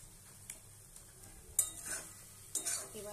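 Fried potatoes drop into a pan of cabbage-paste curry and are stirred, giving a faint sizzle with a few sharp scraping clinks of a spoon against the pan.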